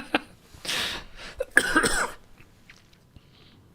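A few harsh coughs in quick succession, close by, followed by quiet.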